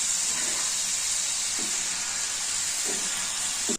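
White peas frying in hot oil give a steady, loud sizzle throughout, with a few sharp pops breaking through the hiss before it cuts off abruptly at the end.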